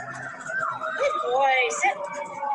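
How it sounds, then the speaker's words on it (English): Emergency vehicle sirens wail in the distance, their rising and falling tones drifting beneath a voice as he speaks to a dog during a training session. "wait for the sirens"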